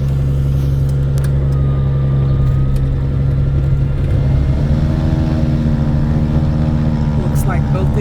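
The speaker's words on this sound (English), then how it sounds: "And now we're going to start the right engine." A second aircraft engine, the right one, starts during a run-up as another already drones, the loud low hum thickening and shifting pitch as it spools up; faint voices may sit under the engine noise.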